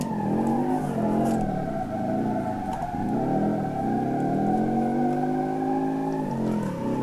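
A Roger SBR4 rear-engine car in BeamNG.Drive runs steadily from an interior view, its engine drone holding loud and continuous with rising and falling revs, including a brief dip near the middle. No voices are heard over it.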